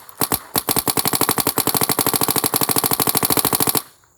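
Rapid burst of paintball marker shots fed by an Empire loader on a high-pressure air tank, dozens of sharp evenly spaced pops at a steady fast rhythm, loud and close, ending abruptly.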